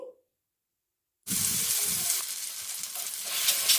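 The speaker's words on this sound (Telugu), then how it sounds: "ఇప్పుడు ఈ మసాలా పేస్ట్ని మనము ఈ గీలో అయితే ఫ్రై చేసుకోవాలండి" Masala paste hits hot ghee for a chicken ghee roast, bursting into a loud, steady sizzle after a second of near silence, then crackling on continuously close up.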